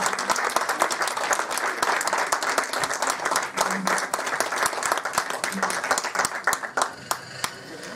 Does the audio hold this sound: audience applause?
yes